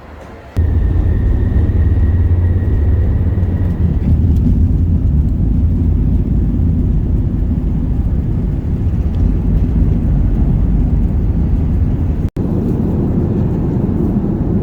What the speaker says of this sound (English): This is our plane for today for the first flight from Munich to Dubai. It's a Airbus A380.